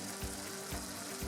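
Boiling water with a dissolved stock cube, around 300 millilitres, poured into a pan of cottage pie filling, a steady close gush with a few splashy bursts and a faint sizzle underneath.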